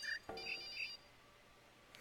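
A phone rings in the video game The Witness: a few short, bright electronic tones in quick succession, fairly quiet, then a near-silent tail.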